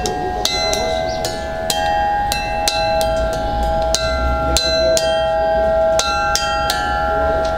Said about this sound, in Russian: Мы сейчас послушаем с верхнего колокольчика.